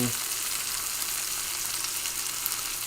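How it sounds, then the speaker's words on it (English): Onions and basil fry in a pan with tomatoes, producing a loud, steady, close sizzle that holds evenly throughout with almost no breaks and no talking over it. "I want my onions in. I want this basil in."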